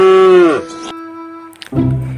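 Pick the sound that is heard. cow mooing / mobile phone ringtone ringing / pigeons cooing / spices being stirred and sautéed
cow mooing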